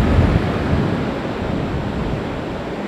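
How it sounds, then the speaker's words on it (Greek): Open-sea waves breaking against a coastal road on Crete, a loud, continuous broadband roar of surf churning close by, mixed with wind buffeting and no voices. "Έχει κυματισμό, είναι ανοιχτή θάλασσα εκεί και υποσκάπτει συνέχεια"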